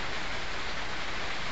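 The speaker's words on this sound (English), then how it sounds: "can you hear the rain?" Steady rain falls in a Hawaiian jungle rainforest during the rainy season, a dense, even hiss of drops with no breaks or voices.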